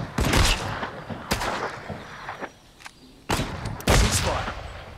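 Gunshots in the WWII video game Partisans 1941, loud, sharp reports in scattered clusters with short pauses between, some single cracks and some quick doubles, fading into quieter ambience midway before firing resumes.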